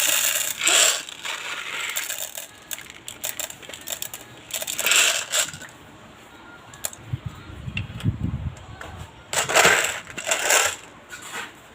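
BBs are loaded into the magazine of an EC 302 M4CQB airsoft AEG, producing bursts of rattling, clattering pellets and sharp mechanical clicks in several close, uneven spurts separated by quieter pauses.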